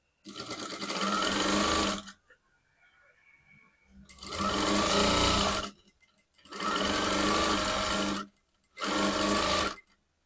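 Sewing machine stitching a blouse in several steady bursts, each about one to two seconds long, with brief quiet pauses between runs; close and loud, no talking.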